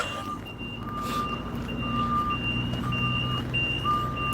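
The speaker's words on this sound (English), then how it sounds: "Sorry about the truck reversing sounds." Repeated high electronic beeps of a truck reversing, evenly spaced over a low engine rumble at moderate distance.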